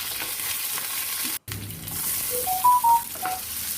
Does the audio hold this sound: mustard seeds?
yes